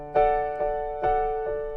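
A keyboard repeats a chord in steady eighth notes, with four soft attacks spaced evenly, each ringing on until the next. It is clear and unaccompanied by talk.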